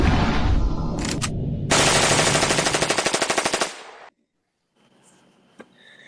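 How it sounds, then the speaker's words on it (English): Rapid gunfire set as a morning alarm rings out loud and dense, with an automatic burst of evenly spaced shots before cutting abruptly to near silence, followed by a faint room tone and one soft click. "Gunshots."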